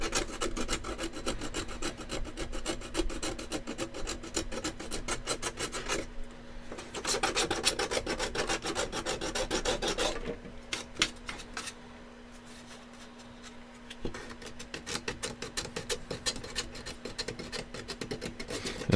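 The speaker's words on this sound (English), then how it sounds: "It's on there pretty thick, so I'm using a file to scrape it away" A metal file scrapes thick paint off a Hasbro toy in steady, rapid back-and-forth rasping strokes, close and fairly quiet. Scraping pauses briefly near eleven seconds, then resumes with a faint steady hum underneath.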